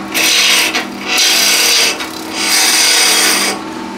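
A skew chisel cuts a taper into spinning wood on a lathe, giving three loud sustained scraping passes with brief pauses between them over a steady motor hum.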